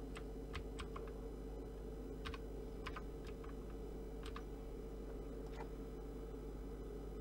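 Keystrokes on a computer keyboard, a few quick clusters of light clicks spaced irregularly, faint over a steady background hum.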